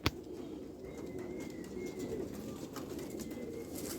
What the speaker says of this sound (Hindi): ये एक नायाब कबूतर, इनमें काली आंख की मादी लगाई है,